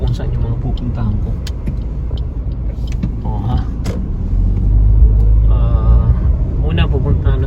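Car driving along a highway after leaving a subdivision, with a steady low road rumble and engine hum throughout, growing slightly louder midway, alongside faint creaks and other noises from inside the vehicle.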